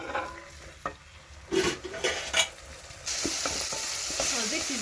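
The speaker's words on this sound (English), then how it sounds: "Again, we add in our tomatoes and the salt. Then keep stirring." Tomatoes and salt are stirred in a pot while cooking Swahili pilau, with scraping spoon strokes and soft clinks over a sizzle that grows into a steady loud fry.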